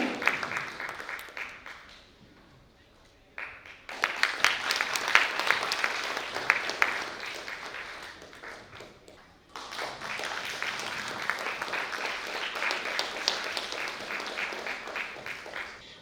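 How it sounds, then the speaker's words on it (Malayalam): Loud, sustained applause from a congregation at a church consecration ceremony for a Jacobite Syrian Orthodox church, rising in two long bursts separated by a brief quiet gap. "നമുക്ക് നല്ലൊരു കയ്യടി കൊടുക്കാം."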